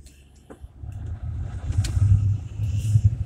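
A 2005 Ford F250 with the 6.0 diesel cold-starts on a freezing morning, cranking briefly before catching into a low, rumbling idle that swells and settles, close to the microphone.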